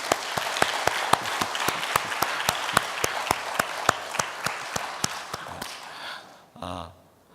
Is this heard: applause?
yes